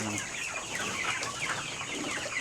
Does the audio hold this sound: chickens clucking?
yes